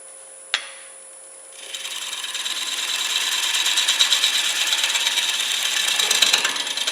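Gouge takes a second surfacing cut on a wooden bowl, a sharp knock first and then a rising, steady rasping scrape of the cutting that continues close and loud to the end.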